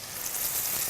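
Beef searing in a hot pan with grapeseed or olive oil, a steady, bright hiss and crackle of sizzling that stays loud and even from start to finish.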